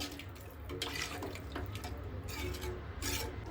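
Basmati rice being washed in water in a kitchen, with close sloshing, trickling and rubbing sounds coming in short uneven bursts.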